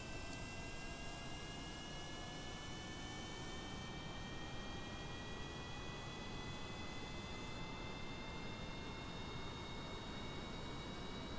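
Steady aircraft engine roar during an off-road takeoff in Kerbal Space Program, a continuous droning whine with rising tones, even and unbroken, no talking.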